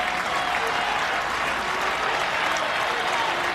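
Steady, broad roar of a college baseball stadium crowd rising and cheering at a semifinal game between Iowa and UCLA, a continuous wash of applause and voices holding level throughout.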